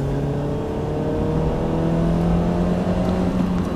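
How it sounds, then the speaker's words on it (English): The engine of a 2018 Dacia Duster is held high in its rev range from inside the cabin, giving a steady, loud, droning hum with a slowly rising pitch and no break. "explore the top of the rev range and it does alright"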